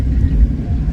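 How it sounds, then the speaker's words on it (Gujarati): A family tractor rumbles past on a village road, a low steady engine drone with wind buffeting, continuous and fairly loud throughout with no voices. "પેલું અમારું ટ્રેક્ટર જાય છે."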